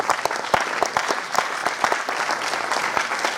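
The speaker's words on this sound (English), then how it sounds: "what about a big round of applause for yourself, because this ultimately is a sellout show" An audience at a sold-out physique competition claps enthusiastically, a brisk burst of many hands with sharp close claps over a dense crowd wash, fairly loud and sustained throughout.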